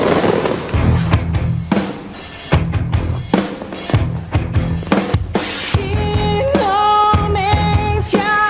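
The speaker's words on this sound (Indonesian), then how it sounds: "pertunjukan kembang api menutup pelepasan Karnaval Bersatu Hari Ulang Tahun ke-80 RI di Monas Minggu malam" Fireworks over Monas in Jakarta for Indonesia's 80th Independence Day celebrations, heard as a rapid series of loud bursts and crackles, with whistling tones rising near the end, close and dense throughout.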